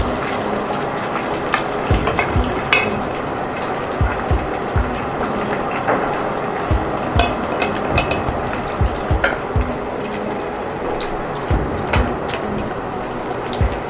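Coconut-crusted chicken pieces frying in a pan of oil, a steady close sizzle and crackle with faint scraping and stirring, alone without talk.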